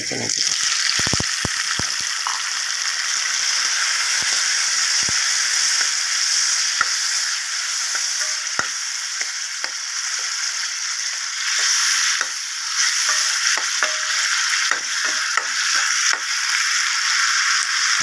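Tomatoes frying in a pan for hotel-style tomato chutney, a close, steady sizzle with occasional sharp pops and clicks of stirring throughout.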